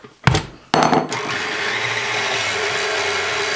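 A stand mixer starts up and runs steadily at low to medium speed, mixing pizza dough; after a couple of sharp bursts as the motor kicks in, a continuous whirring hum holds to the end, with no voices.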